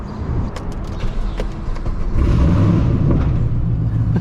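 A 5th-generation Chevrolet Camaro with an LS V8 and straight-piped exhaust starts up and settles into a loud, deep, rumbling idle that swells slightly louder midway and stays heavy and continuous without any talking.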